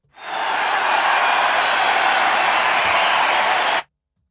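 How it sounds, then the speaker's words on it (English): Applause from an audience at a training wrap-up party, a dense, steady roar of many hands clapping that swells in quickly, holds at full strength for about three seconds, then stops abruptly. "a big round of applause"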